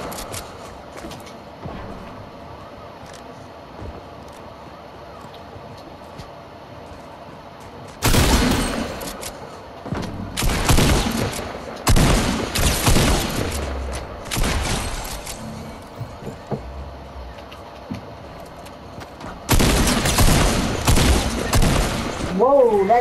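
Gunfire in a Fortnite 1v1 match comes as several loud, rapid bursts of shots separated by quieter gaps, with occasional talk in between.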